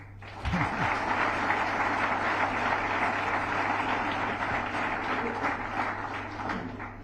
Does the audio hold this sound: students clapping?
yes